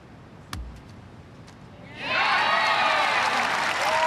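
Boccia crowd at a men's individual BC4 final bursts into loud, sustained applause and cheering after a quiet stretch with a single sharp knock.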